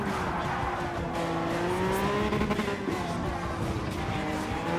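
Peugeot Vision GT race car in the GT Sport video game, its engine droning steadily with rising and falling pitch and some tire squeal, loud and continuous throughout with no talk.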